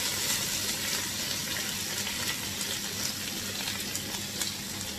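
Onions sizzle and fry loudly in a hot pan for a mushroom spicy varuval, a dense, steady crackle and hiss that carries on without a break and with no talking.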